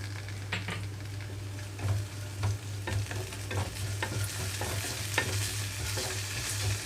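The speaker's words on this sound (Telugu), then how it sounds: "అల్లం వెల్లుల్లి పేస్ట్ వేసుకున్న తర్వాత థర్టీ సెకండ్స్ వేయించుకుంటున్నాను" Ginger garlic paste frying with browned onions in a pan for a boondi curry, a constant close sizzle with repeated scraping stirs of a spatula and a low steady hum beneath.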